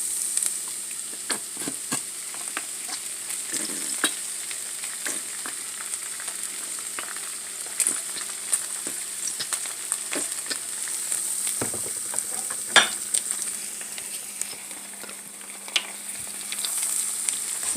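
Ginger, onion and garlic fry in a pan for chilli beef, giving a steady close sizzle with occasional stirring scrapes and pops throughout.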